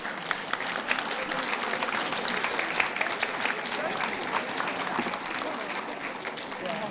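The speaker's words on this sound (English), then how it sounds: "Round of applause for Donna." An audience at a public library book event in Wasaga Beach gives Donna a sustained round of applause, steady and dense clapping, moderately distant, with some voices underneath.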